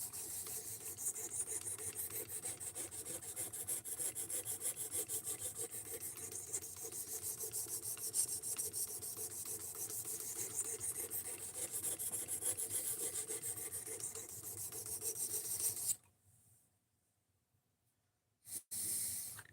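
Steady back-and-forth rasping of a knife being sharpened on an 800 grit whetstone, continuous and close for about sixteen seconds, then stopping into near silence before a brief final scrape.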